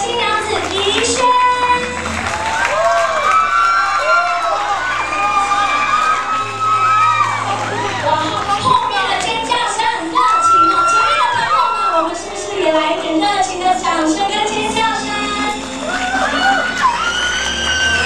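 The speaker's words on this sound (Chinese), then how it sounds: "让我们用最热情的掌声来代替我们德纲迎接我们的宜轩出场" Wedding guests clap and cheer as the bride Yixuan makes her entrance at a wedding ceremony, a loud, continuous crowd roar with applause running throughout, mixed with shouts and an announcer's voice over music.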